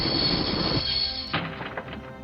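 A train's emergency brake squealing in the adventure game Broken Sword, a loud sustained high-pitched screech over rumbling wheels, then shifting into rattling clunks as the train slows.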